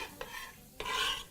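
A finely chopped ingredient for chicken biryani goes into a hot pot, with two quick scraping stirs followed by a close, bright sizzle that swells and then settles.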